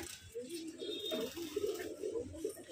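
Soft, low pigeon coos repeat close by, gentle rolling calls with a faint background hiss.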